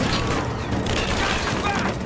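Rapid gunfire rattles in Rise of the Tomb Raider as enemies shoot in a dense, continuous volley, loud and close, with shouted voices mixed in.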